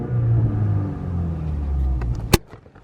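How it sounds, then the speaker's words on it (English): A BMW 330i G20 in sport mode rumbles from the exhaust with a low burble, then lets out one sharp, loud pop before the sound fades to quiet. "It's a little bit louder, little pops and crackles"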